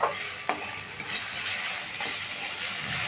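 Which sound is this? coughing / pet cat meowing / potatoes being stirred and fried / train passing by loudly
potatoes being stirred and fried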